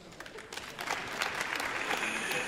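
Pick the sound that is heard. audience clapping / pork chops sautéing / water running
audience clapping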